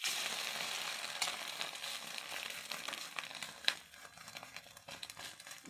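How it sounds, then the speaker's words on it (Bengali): An egg frying in oil in a wok, a bright crackling sizzle close by with occasional sharper pops and scraping, steady then slightly fading, no talk. "ডিমটা দুদিকেই কড়া করে ভেজে নিতে হবে"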